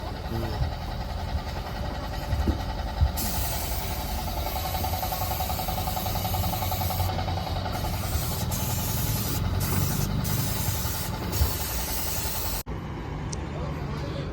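Spray painting, with a steady broadband hiss of the spray gun that runs for several seconds and then cuts off, while people talk over it.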